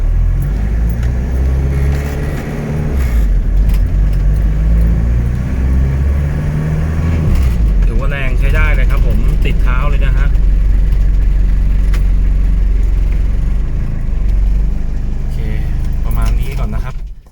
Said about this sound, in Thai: นี่ครับเครื่องยนต์สตาร์ทง่ายนะครับ